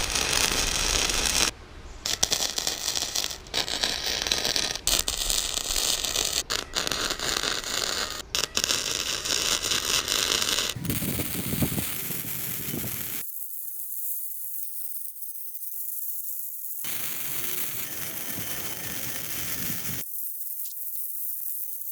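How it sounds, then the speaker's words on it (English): Welding along the edges and cutouts of a homemade steel skid plate: steady close crackling sizzle in bursts, broken by short gaps, then fading to quieter hiss with stretches of near silence. "I'm just gonna start welding all of the edges and all of the cutouts that I made"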